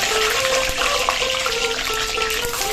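Long-cut eggplant pieces dropping into hot oil, a loud close rushing sizzle with bubbling and a faint tonal whine running through, continuous with no talk.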